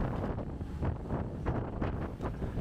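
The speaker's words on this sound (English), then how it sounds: "Seas are still quite calm, but the wind's picked up and we're going at a pretty fast clip" Steady gusting wind buffets the microphone on the open deck of a fast ferry crossing from Maui to Lanai, a continuous rough roar with no voices.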